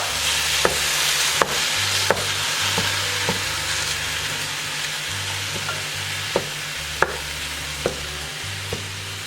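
Ground beef and sausage browning in a hot pan give a steady, loud sizzle that runs throughout, broken by sharp scrapes and taps of a stirring utensil at irregular intervals.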